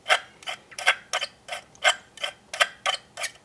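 Tender axle mechanism of a Tri-ang/Hornby OO gauge Flying Scotsman model locomotive clicking in a steady series of sharp, close mechanical ticks, about three per second.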